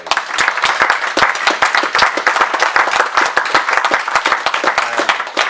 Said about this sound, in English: I'd like a round of applause for our two sets of parents, please.